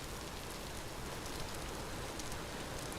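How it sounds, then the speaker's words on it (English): Rain falls steadily in the Vintage Story video game, a soft, even hiss of drops with no talk over it, constant from start to finish. "Now it's raining in earnest."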